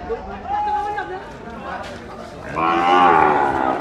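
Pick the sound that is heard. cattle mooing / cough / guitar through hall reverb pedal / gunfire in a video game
cattle mooing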